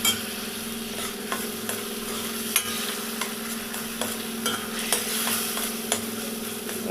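Ginger-garlic and chicken curry sizzles and fries in a pan on a stove while a spoon stirs it, with a steady close hiss broken by light scraping knocks against the pan and no speech.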